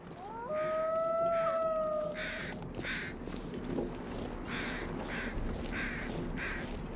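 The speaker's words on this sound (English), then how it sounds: "Carrion crows." Carrion crows caw in the snowy wilderness of the survival game The Long Dark, heard as a series of repeated harsh caws at a moderate distance. An eerie tonal whine opens the sequence, and soft ambient noise sits underneath.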